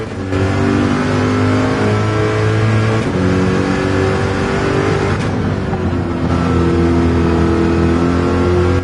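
A Corvette races in Gran Turismo 7, its engine revving loud and close, holding high pitch and then climbing through several gear shifts, alone without talk.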